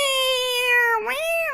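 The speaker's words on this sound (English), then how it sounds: "Cat fight." A cat lets out a long, drawn-out meow that dips and then rises again in pitch, loud and close with nothing else around it.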